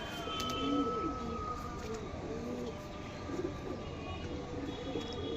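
Male pigeons released together, with soft, low cooing murmurs repeating steadily under a constant background hum and faint chirps.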